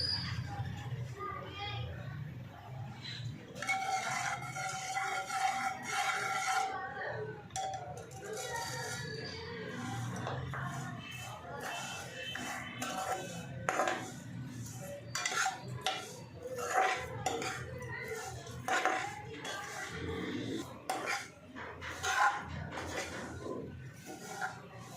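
Vermicelli roasting in a spoonful of ghee in a pan for Eid sheer khurma, stirred with a metal spoon: close, busy clinks and scrapes against the pan that continue throughout.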